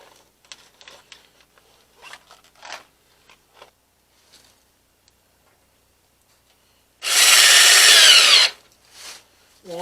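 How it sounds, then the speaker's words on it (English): A power drill drives a screw into a metal workshop stovepipe in one loud sustained burst of about a second, preceded by scattered light handling noises and followed by a brief whir. "it's time to put a screw in"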